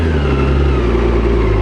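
A 2022 BMW K1600GT motorcycle pulling away in first gear, its engine giving a loud, steady mid-to-low rumble that builds slightly as it accelerates.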